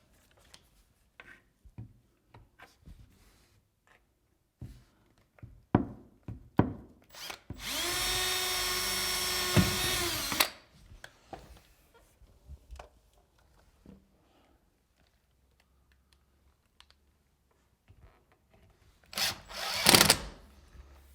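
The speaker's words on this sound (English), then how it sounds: "I'm just going to drill a hole straight through the rail into the channel." A power drill bores through the hinge rail of a swing door in two whining bursts, a longer one mid-way and a shorter one near the end, separated by quiet handling clicks.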